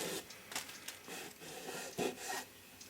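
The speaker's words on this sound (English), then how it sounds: "may as well get this excess squeeze out off right now" Scraping and rubbing strokes work excess glue squeeze-out off a glued-up wooden mantel clock part, a series of faint, irregular rasping passes with short pauses between them.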